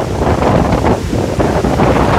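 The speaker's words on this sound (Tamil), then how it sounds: "செம காற்று இந்த இடம்" Strong wind on Alangulam hill buffeting the microphone, a loud continuous roaring rumble with gusty swells throughout and no voices.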